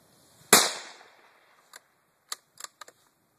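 Sharp report from a Savage Model 93 .22 Magnum rifle, one loud nearby shot with a short decaying tail, followed by several fainter, quicker snaps spaced over the next second.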